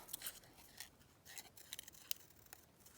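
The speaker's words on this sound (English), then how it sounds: "I'll just cut the butterfly out." Scissors snipping through patterned craft paper to cut out a small butterfly, producing a series of faint, quick, irregular cuts close by, quiet and without any voices.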